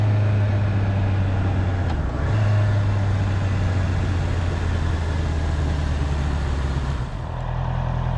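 A 2023 Honda CB650R motorcycle on the road, its engine a steady low drone with a brief dip around two seconds and another near seven, heard from the rider's position with wind noise and no speech.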